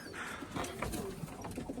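A crested flying pigeon held in someone's hands gives brief soft coos and wing flutters against a noisy background, fairly faint and close.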